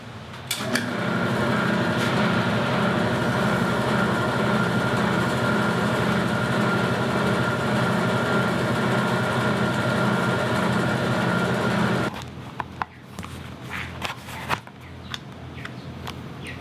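Edge of a handmade leather clutch being burnished, a steady motorized whir that runs loud and unbroken for about twelve seconds, then cuts off, leaving quiet handling noises.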